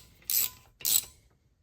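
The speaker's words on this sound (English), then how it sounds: "Unscrew it until you feel it get tight. Work it out." A rusty brake caliper bolt on a 2018-2021 Chevrolet Equinox or GMC Terrain gives two short, sharp ratcheting bursts close by as it is worked loose, with a quiet pause between them.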